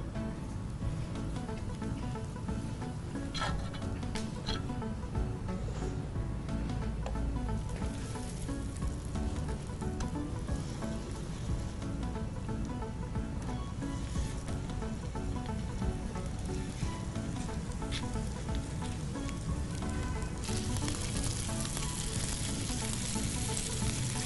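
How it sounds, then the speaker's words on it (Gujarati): Stuffed paneer shallow-frying in butter gives a steady, dense sizzle that holds at a constant level throughout, close and fairly quiet, with no talking. "હવે પનીરને જે ભર્યા છે એને શેકી લઈએ છે"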